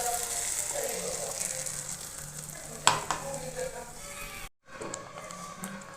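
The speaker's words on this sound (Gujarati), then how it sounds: "હવે આપણે જે ટોમેટો પ્યુરી રેડી કરેલી છે ને એ હવે એડ કરી દેવાની છે" Tomato puree pours into a hot pan for homemade pizza sauce, giving a steady close sizzle and frying hiss with a sharp splash midway and a brief cut near the end.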